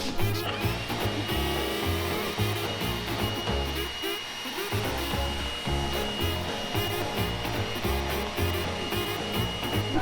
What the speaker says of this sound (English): So he went to go grab the leaf blower.